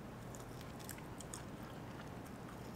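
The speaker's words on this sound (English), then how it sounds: "This wing is really good. The skin is really crunchy." Close, crackly biting and chewing of a crunchy salt and vinegar chicken wing, the skin and cartilage crunching softly over a steady background hiss.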